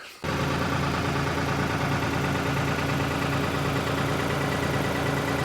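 Tractor engine starting up and running steadily, a constant, loud droning rumble right after a brief start, heard close and alone at a farm plot being readied for seeding.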